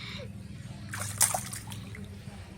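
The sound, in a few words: water splashing as someone bathes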